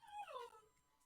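A dog whimpers in a single high, wavering whine that rises and bends downward before fading into a quiet room, brief and fairly soft, with no voices over it.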